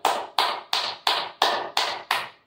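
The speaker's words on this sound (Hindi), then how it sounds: "और तीसरा है इसमें ताली बजाना। ताली भी इसमें इस प्रकार बजाते हैं कि अपने सभी पॉइंटों पे" Seven firm, evenly spaced hand claps with the fingers of both hands meeting fully during a clapping exercise, close and loud, no voice.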